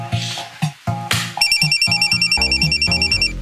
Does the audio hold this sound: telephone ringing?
yes